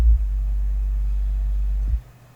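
A synthesized low sine-wave bass note for a bass house track, a pure deep tone held steadily for about two seconds, then cut off cleanly, with no other sounds.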